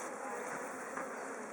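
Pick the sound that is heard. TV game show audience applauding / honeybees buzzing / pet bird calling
honeybees buzzing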